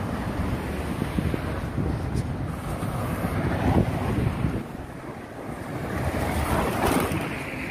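Strong wind buffets the microphone in a steady, loud roar, rising and falling in gusts with no one speaking.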